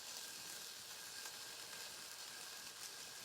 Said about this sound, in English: warm enough it's starting to sizzle.